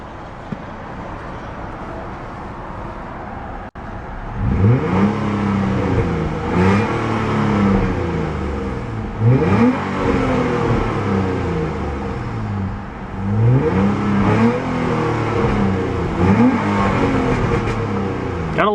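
A 2005 Nissan Altima 3.5 SE-R with its V6 engine idling steadily, then revved repeatedly in loud, rising-and-falling bursts close by, with no talking.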